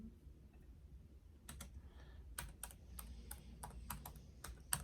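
Rapid clicks of keys being typed on a keyboard, coming in irregular bursts with short pauses, fairly close, over a low background hum.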